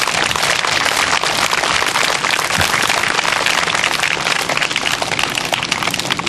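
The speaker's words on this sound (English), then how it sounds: "we would like to give all the families here that have military defending our freedoms a round of applause right now" Sustained, dense applause from a large audience honoring military families, a steady wash of many hands clapping at close range for several seconds, with no voices over it.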